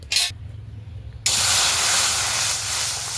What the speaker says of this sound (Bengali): জল দিলাম, কড়াইটা গরম হয়ে গেছে